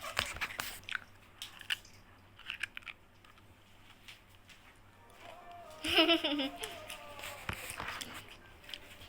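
Someone crunches something crispy, producing faint, close bites and chewing crackles scattered through the stretch under a quiet room background, with a louder burst near the end and a voice speaking alongside.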